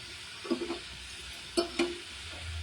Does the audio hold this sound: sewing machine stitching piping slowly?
no